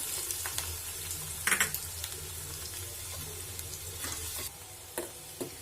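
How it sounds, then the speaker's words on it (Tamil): Steady frying sizzle of chopped shallots in oil in a pan, with a few louder clatters of stirring, close and continuous. "இப்போ நறுக்கில் சின்ன வெங்காயத்தை சேர்த்துக்கிறேன்."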